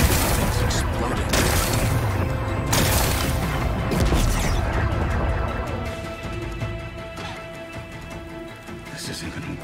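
A rock-blasting explosion in the video game Horizon Forbidden West, with heavy booms and crashing debris up front that settle into a lower rumble as they fade toward the end.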